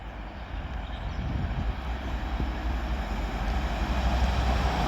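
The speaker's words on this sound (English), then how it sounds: "Now passing through is going to be another freight train. This time it is a Class 90, if I'm right, heading up to Liverpool Freight Terminal." A freight train hauled by a Class 90 electric locomotive passes Acton Bridge on the West Coast Main Line, heading for Liverpool Freight Terminal, a continuous low rumble and wagon roar building slightly louder over a few seconds.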